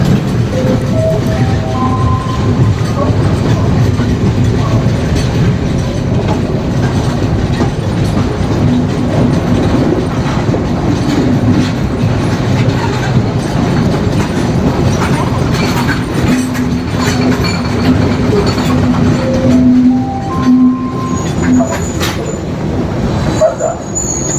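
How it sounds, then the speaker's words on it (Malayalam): A train pulling into Galle railway station in Sri Lanka, loud continuous rumble and rhythmic clatter of wheels on rails, with rising tonal squeals from the carriages and a brief higher screech toward the end. "ഇത് ഇവിടുന്ന് പിന്നെയും പോകും ഈ ഈ ട്രെയിന് ഇത് ലാസ്റ്റ് സ്റ്റേഷൻ അല്ലത്"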